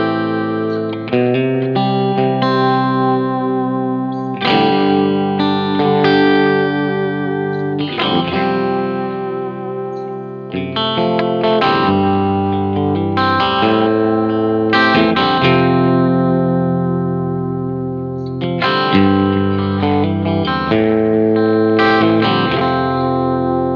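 An electric guitar played through a Marshall Origin 50 amp head rings out in loud, sustained distorted chords with some chorus and echo, strummed in phrases separated by brief pauses, with no talking.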